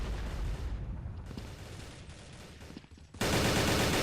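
Gunfire in a shooter video game crackles in rapid bursts amid dense battle noise, ending in a sudden loud sustained blast of sound near the end, with no speech heard.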